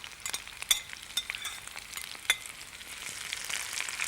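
Pepper, onion, lentils and aubergine fry in a pan as they are stirred, giving a bright close sizzle broken by quick scraping strokes and little crackles, with no talking.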